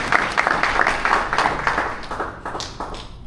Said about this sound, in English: Let us clap for the parents of this boy.